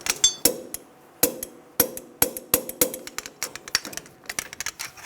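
A ratchet tightens the upper ball joint nut on a 2000-2006 Toyota Tundra during a front CV axle replacement. Sharp, close metallic clicks come in a quick, fairly even series, speeding up and growing lighter toward the end.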